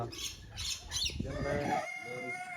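A chicken clucks and calls in short bursts, fairly close, over faint background noise.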